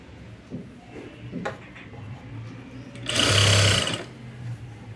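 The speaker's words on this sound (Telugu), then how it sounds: "ఫోల్డ్ చేసుకుని నీట్గా స్టిచ్ చేసుకుంటూ వెళ్ళిపోండి" A sewing machine stitches piping onto cloth, a low steady whir with a louder, brief run of stitching near the end.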